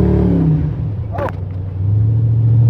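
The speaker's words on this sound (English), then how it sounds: "Little fishtail there." An LS-swapped Ford Ranger truck fishtails on a wet road, its V8 engine rumbling loud and close, dipping and then revving back up, with a brief sharp noise in the middle.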